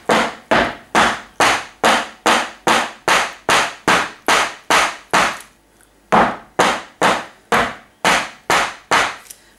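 A silicone soap mould of handmade citrus strawberry silk soap is banged repeatedly on a hard work surface, about twenty sharp, evenly spaced thumps with one brief pause midway, loud and close, no talking.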